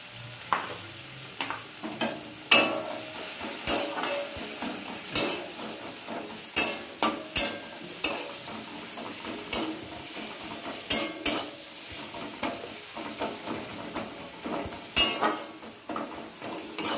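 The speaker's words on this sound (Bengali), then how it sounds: "পেঁয়াজটা একটু ভাজা ভাজা হোক।" Onions fry in a pan with salt and turmeric for a hilsa fish dish, a soft continuous sizzle broken by frequent sharp scrapes and clinks of a spatula against the pan.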